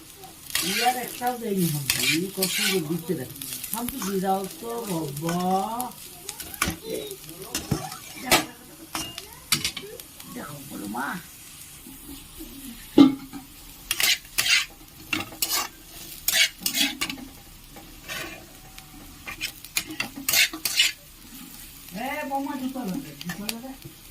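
Carrots being fried for mixed fried rice, bursts of sizzling and spatula scraping against the pan that come and go, with someone talking over much of it.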